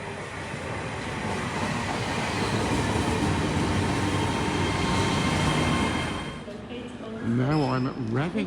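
Loud, continuous rumble and rattle of a train running on rails, easing off toward the end as a voice briefly speaks over it.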